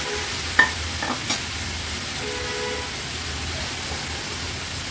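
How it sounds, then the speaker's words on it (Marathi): Cleaned crabs go into ground masala frying in oil in a pan, giving a steady hiss of sizzling with a few clinks and stirring knocks near the start. "वाटण तेलावर परतून झाले की ही साफ केलेली चिंबोरी ऍड करूया।"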